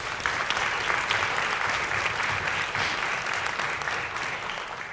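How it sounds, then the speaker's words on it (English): Audience at a community band Christmas concert claps warmly, a sustained even patter of many hands at moderate volume that holds for several seconds, tapering slightly at the end. "So please give her a round of applause as well."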